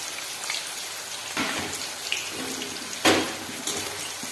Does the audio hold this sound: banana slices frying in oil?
yes